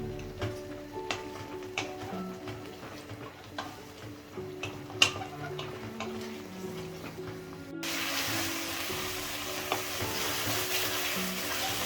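Yogurt curd fries and sizzles in a pan on high flame for lamb chops, a steady crackling hiss with scattered ticks and spoon scrapes from stirring, the sizzle brightening and thickening partway through.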